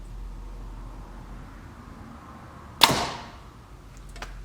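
A 485 grain arrow leaves a PSE Xpedite NXT compound bow and punches through a bag target into the wall behind: a quiet room tone, then one sharp, loud impact crack that decays quickly, followed by a faint rattle.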